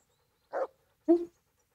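A dog in the Kingdom Come: Deliverance video game gives two short, close vocal bursts about half a second apart, each brief and clear against silence.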